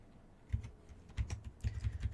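Computer keyboard keys clatter in three short bursts of quick, fairly close typing, with quiet pauses between.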